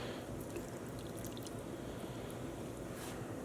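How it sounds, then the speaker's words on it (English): Water mixed with white vinegar pours from a cup into a container, a steady soft splashing trickle that runs unbroken and fairly faint, with no one speaking. "I'm gonna pour it down the center"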